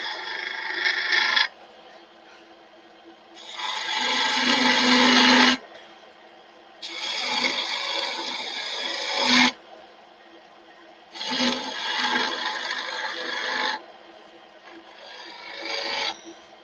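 A chisel works on wood in five loud, close rasping strokes of a few seconds each, separated by quieter pauses.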